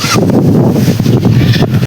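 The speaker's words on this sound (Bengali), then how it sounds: "এখন একটু হাওয়া হচ্ছে" Gusty wind ahead of a monsoon storm in a village, buffeting the microphone with a loud, continuous low rumble that barely lets up throughout.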